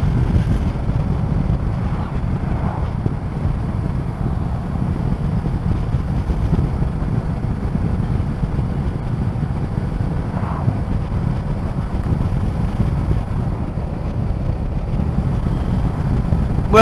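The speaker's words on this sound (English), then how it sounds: "There's my first ever ride out on my Suzuki V Strom DL250." Steady engine drone and heavy wind rush from a 2018 Suzuki V-Strom DL250 motorcycle on the move, continuous and loud throughout with no speech.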